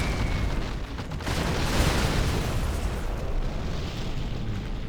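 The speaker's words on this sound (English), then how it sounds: "carpet and artillery coming in for Fargo" Carpet bombing and artillery explosions in a competitive 1v1 strategy match, a continuous heavy rumbling barrage of overlapping booms and blasts, loud and dense with no clear gaps.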